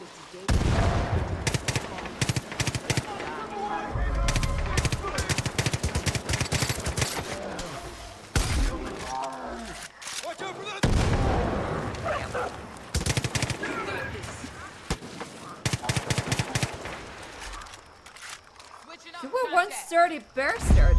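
Bursts of automatic and single-shot gunfire from the video game Far Cry 5 crackle repeatedly over about twenty seconds, mixed with people talking throughout.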